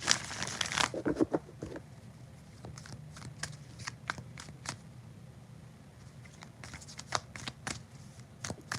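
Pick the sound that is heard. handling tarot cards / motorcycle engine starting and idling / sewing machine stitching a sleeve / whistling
handling tarot cards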